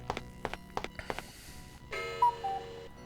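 A cuckoo clock in the video game Chronomaster sounds off, with several sharp ticking strikes followed by a sustained chiming tone with a short warbling cuckoo call, clear and close.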